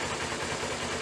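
Kawasaki Ninja 250R motorcycle engine idling close by, a steady low rumble with an even pulsing beat that holds without change for about a second.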